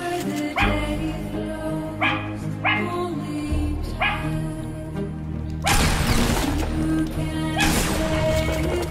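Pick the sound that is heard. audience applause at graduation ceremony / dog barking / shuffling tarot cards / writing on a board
dog barking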